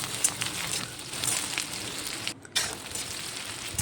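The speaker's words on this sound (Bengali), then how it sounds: "সর্ষের তেলটি গরম হয়ে গেলে তাতে শুকনো লঙ্কা, পেঁয়াজ, রসুন থেতো করা, কাঁচা লঙ্কা দিয়ে একটু নাড়াচাড়া করে নিলাম।" Dried and green chillies, onion and crushed garlic fry in hot mustard oil, producing a steady, close sizzle with crackling spatters and no talk.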